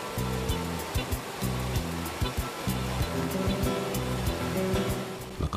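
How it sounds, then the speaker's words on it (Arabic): Waterfalls in Algeria pour over rocks with a dense, continuous rushing roar, loud and close, a steady wash of water with no voices. "فصنع عند كل منخفض شلالات ألفتها الصخور، فشكل معا نغمة تتباهى بإيقاعها الخاص"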